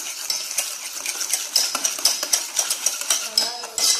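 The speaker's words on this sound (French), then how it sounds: "je prends mon fouet. Je mélange très bien." Two eggs whisked in a bowl with a hand whisk for a chocolate mi-cuit, rapid rhythmic metallic clicking and scraping against the bowl, close and continuous without talk.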